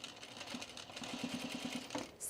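A sewing machine stitching a V-neck coat, running steadily with a fast rhythmic needle chatter close by, with no talk.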